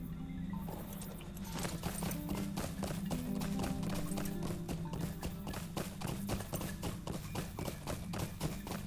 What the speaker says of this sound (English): So we'll get back on my horse and we'll continue on our way to the old forest.